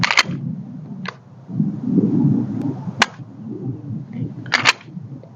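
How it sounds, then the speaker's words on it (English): Sharp, dry mechanical clicks of a pistol trigger during dry-fire practice, heard as several isolated snaps at uneven intervals over a low, muffled background rumble. "That's where dry fire will come in. Practicing straight to the wall."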